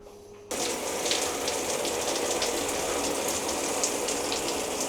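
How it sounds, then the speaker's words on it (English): Hotel shower running steadily after it is switched on, a continuous hiss of water spraying and splashing in a bathroom with a bathtub, close and fairly loud with no talking. "Not the most powerful shower ever, but good enough."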